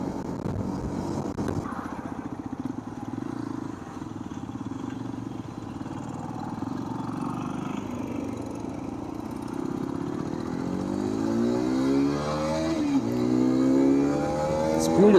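Hero Xpulse 210 adventure motorcycle riding through a U-turn, its engine droning steadily under wind noise, then revving up and accelerating near the end; a rider's voice is faintly heard.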